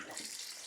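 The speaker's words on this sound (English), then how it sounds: "put some water in there, put some washing up liquid in it" Water gushes from a tap into a dirty, burnt-bottomed pan to soak, a steady bright splashing rush heard briefly and fairly close.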